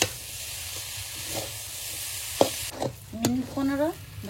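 Shredded cabbage with turmeric fries in a pan, giving a steady sizzle broken by a few spatula scrapes and knocks, with a brief voice-like tone near the end.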